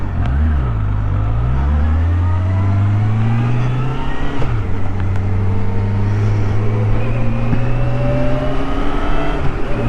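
Suzuki GSX600F motorcycle engine pulling hard up a steep hill, a loud steady whine that rises in pitch, drops briefly at a gear change and then climbs again.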